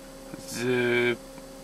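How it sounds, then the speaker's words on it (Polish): A Mercedes parking air conditioning compressor starts up with a steady hum that swells for about half a second and then cuts off, heard close and alone. "powinna się uruchomić sprężarka"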